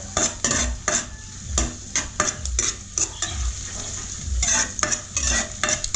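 Ground pork with onions being stirred and fried in a pan for pork afritada, with repeated scraping strokes of a utensil over a steady close sizzle.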